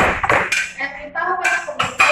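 Plates, dishes and glasses clink and clatter in a kitchen as they are washed and wiped, a run of bright irregular knocks and chimes at close range, with people talking nearby.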